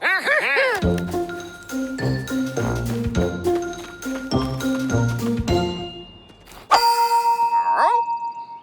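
Metallic gongs struck one after another, ringing tones with long shimmering decay, followed by a brighter, higher ring near the end.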